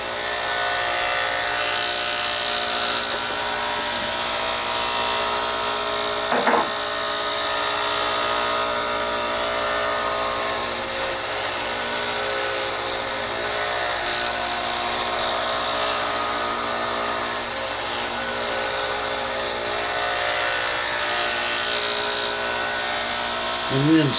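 A pen is buffed with triple wax on a polishing machine, giving a steady, loud whirring hum that runs unbroken throughout, with a brief soft knock partway through.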